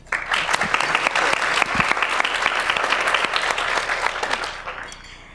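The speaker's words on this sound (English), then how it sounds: "let's give a round of applause welcome to these ladies." A luncheon audience claps to welcome a panel of women to the stage, with close, full applause that builds quickly, holds steady for several seconds, then tapers off.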